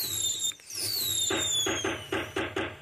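Small fireworks fired from an electronic fireworks system give a rising whistle, followed by a rapid series of sharp crackling pops at close range, with a steady low hum underneath.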